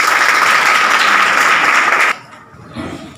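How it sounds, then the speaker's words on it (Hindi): An audience at an inter-college event in Khurhat, Mau, breaks into a dense burst of applause that cuts off abruptly after about two seconds, followed by quiet room sound. "दोबारा तालियां हो जाएं।"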